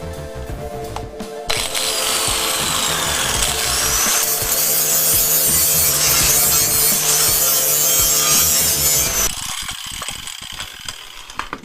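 A loud power grinder shrieks against metal on a 1986 GMC Suburban inner rocker panel, its harsh high whine holding steady before cutting off and leaving quieter workshop clatter.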